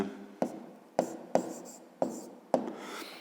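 Chalk or pen writing letters on a board, with five or six distinct scratchy strokes each starting sharply and trailing off, close and clear with no talk.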